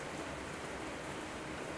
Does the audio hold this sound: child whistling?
no